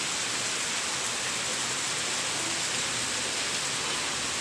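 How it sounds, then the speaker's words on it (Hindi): Heavy rain pours steadily, a dense, unbroken hiss of water on surfaces and puddles that holds at an even level throughout, with no voices or other sounds. "आज तो सारी रात से बारिश हो रही है और अभी तक हो ही रही है"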